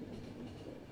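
Train running in the video game Final Station, a faint, steady low rumble of the moving train with soft rolling noise throughout.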